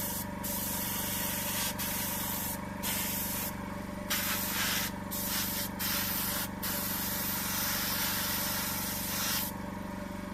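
An airbrush sprays clear automotive body varnish onto a 1/24 Revell Ferrari F2007 model car. A steady, close airy hiss continues throughout, broken by a few brief stops, with a low compressor hum underneath.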